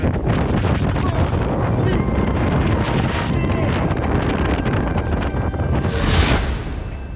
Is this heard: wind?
yes